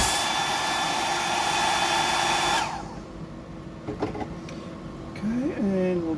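A hair dryer blows loudly and steadily while drying a freshly painted ballistic pattern, then cuts off partway, leaving quieter handling noises and a short squeaky sweep near the end.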